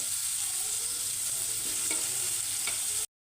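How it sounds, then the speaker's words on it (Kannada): Onions and curry leaves fry in a pan with a steady, bright sizzle, close and continuous, broken by a couple of faint stirring clicks before the sound cuts off abruptly. "ಈರುಳ್ಳಿ ಫ್ರೈ ಆಗ್ತಿದ್ದಂಗೆ"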